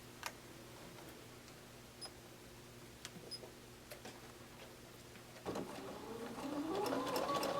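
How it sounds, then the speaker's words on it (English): A sewing machine stitches piping along a purse handle, at first with faint scattered ticks and clicks, then running steadily louder and more continuously toward the end. "it's going to stitch right down the edge of the piping"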